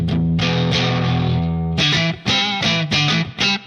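An electric guitar plays a sustained low chord, then choppy strummed chords, with a deep, warm, slightly overdriven tone from a Line 6 POD HD500 Fender Bassman (Tweed B-Man Normal) amp model.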